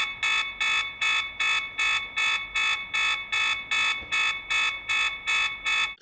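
An outdoor solar security camera sounds its alarm siren, a loud, piercing electronic tone pulsing in a steady rapid rhythm about twice a second without pause, close and alone.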